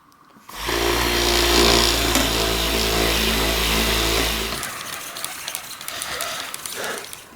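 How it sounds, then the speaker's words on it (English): An orbital polisher buffing carnauba wax onto a car whirs loudly and steadily for about four seconds after switching on, then cuts off, leaving quieter rustling and handling noise. "if you have like an orbital polisher, using this with the Carnauba wax can make the job a lot easier and a lot faster"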